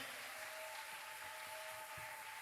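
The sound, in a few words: congregation applauding to acclaim Jesus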